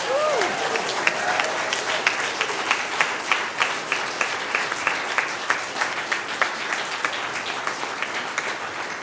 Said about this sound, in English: Can I get a round of applause and a hooray?